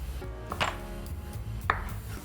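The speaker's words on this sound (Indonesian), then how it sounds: "Terus kalau bisa ini kita ngirisnya memotong serat dan juga sama rata." A kitchen knife slices beef across the grain for shashlik skewers on a cutting board, giving two crisp, close chopping thuds about a second apart over a steady low hum.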